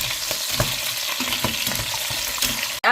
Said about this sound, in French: Et on va bien mélanger tout ça.